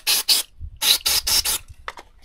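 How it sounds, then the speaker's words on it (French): Aerosol degreaser sprays from a can in several short hissing bursts, two then four in quick succession, loud and close, followed by faint handling sounds. "Dégraissant bombe, comme ça."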